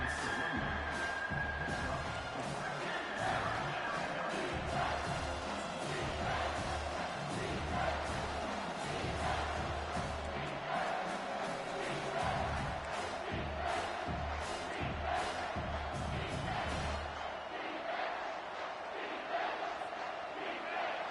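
A football stadium crowd roars steadily in support of the defense during a college game between Florida and South Carolina, a dense sustained wall of cheering and shouting that eases off near the end.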